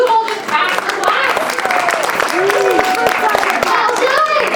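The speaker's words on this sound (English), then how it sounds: "let's go ahead and give ourselves a round of applause" A class of students applauds together after a drawing lesson, clapping filling the moment steadily with some children's voices mixed in among the claps.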